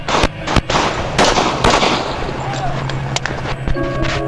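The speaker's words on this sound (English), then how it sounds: "But Mecham is not hit and begins firing back" Several sharp, loud gunshots crack in quick succession during a shootout, with irregular bursts and echoing booms over a noisy background.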